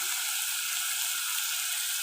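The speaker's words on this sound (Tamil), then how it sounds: "வெங்காயம் வந்து நல்லா ப்ரௌனாக நமக்கு வதங்கி வரணும்." Chopped onions sautéing in a pan for egg curry give a steady, even sizzle that hisses on without a break, close and moderately loud, with no voices over it.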